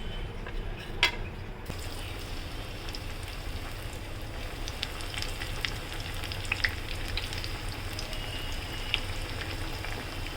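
Alu vadi, sliced colocasia leaf rolls, shallow-frying in a pan until golden on both sides, giving a steady close crackling sizzle with scattered pops and a brief clatter near the start.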